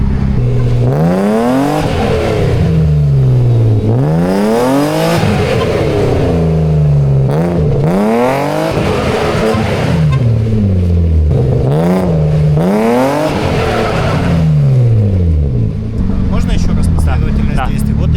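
A BMW E30 drifting, its engine revving hard in repeated rising and falling sweeps with tyre squeal layered over the roar, loud and close for the whole stretch.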